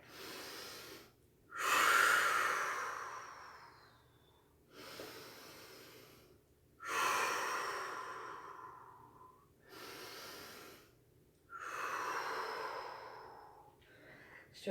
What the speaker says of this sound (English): Take a couple of deep breaths.